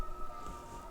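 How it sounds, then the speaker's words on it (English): A siren wails faintly in the distance during severe weather near Denver, a thin, steady tone over low background noise. "as you can hear some sirens in the background"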